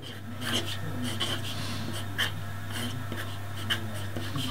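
A pen scratching out cursive letters on paper, short repeated strokes and flicks close by, under a person speaking.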